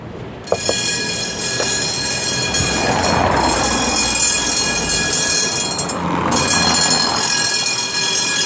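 A route 1 tram in Lviv rumbles steadily and loudly nearby, with a brief clunk near the start and a faint high whine over the running noise.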